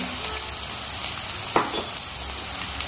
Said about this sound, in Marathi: आपण जे खडे मसाले घेतले होते ते ह्याच्यामध्ये टाकूया